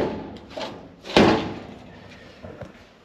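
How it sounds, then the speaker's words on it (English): A bent-metal drawer is pushed into a garage workbench, giving one sharp thud that lands hard, surrounded by softer scrapes and light knocks. "Go to put the drawer into the workbench"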